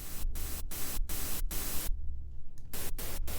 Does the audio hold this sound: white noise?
yes